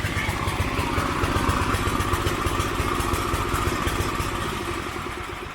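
A small go-kart/mower engine runs at a steady idle after starting, a close, continuous rough chugging with mechanical clatter holding level throughout.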